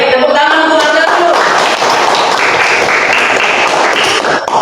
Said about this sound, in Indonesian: Tepuk tangan untuk Anda dulu.